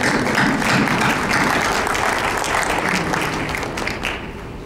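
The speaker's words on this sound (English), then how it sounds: "how about a round of applause for the sponsors for tonight" Audience at an evening event applauds the sponsors, a dense steady wash of many hands clapping that fades slightly at the end.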